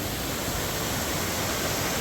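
Rushing water of a creek spilling over a run of waterfalls, a dense, steady broadband roar that stays loud and unbroken throughout with no voices.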